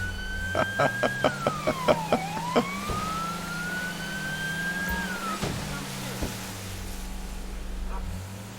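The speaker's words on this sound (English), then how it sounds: "Oh, I got a siren." A police siren in GTA V with the LSPDFR mod, opening with a series of sharp yelping blips, then a long wail that rises and falls over a steady engine hum.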